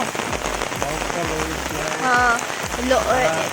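Rain pattering steadily on a surface, with rhythmic low thumps and brief faint voices or chirps partway through.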